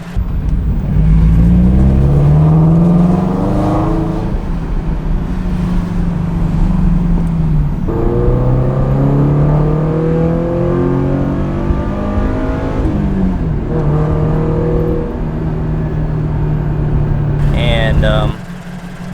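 A Toyota 86/BRZ boxer engine with a UEL catted header and Corsa exhaust revs repeatedly, rising and falling through the rev range with a low rumble turning smoother higher up, loud and close, with someone talking over it.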